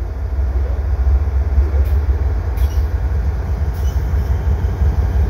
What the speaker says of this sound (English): that third locomotive is being returned to Union Pacific, and it's surprisingly not a double stack, mixed freight heading west